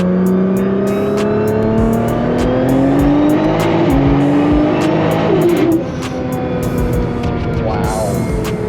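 A 2014 Nissan GT-R tuned to 1380 wheel horsepower accelerating hard, its engine note climbing steadily and loud from inside the car, with a brief shift-like dip near the end and a sustained roaring pull throughout.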